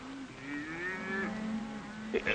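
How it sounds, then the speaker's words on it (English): Wild cattle on an American ranch give a long, drawn-out moo with a rising and falling tone at moderate distance, followed by a short second call. The sound is on a 1942 film soundtrack. "Dominic, these poor cattle, they don't got no home, so I gather them together and I take them to live on my home."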